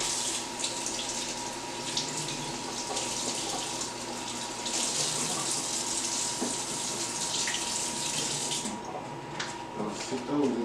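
Tap water runs steadily into a sink while greens are rinsed under the stream, a continuous close splashing hiss with a low hum beneath and some quiet talk.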